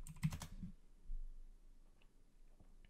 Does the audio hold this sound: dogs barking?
no